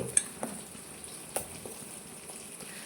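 Homemade hair growth oil boiling in a pan and being stirred, a faint steady sizzle with a few light scrapes and taps of the spoon, quiet and close.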